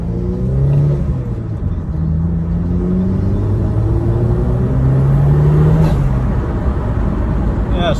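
A 315 BHP Vauxhall Astra VXR idles while warming up from cold, a steady close low rumble with slight wavering pitch throughout and no revving.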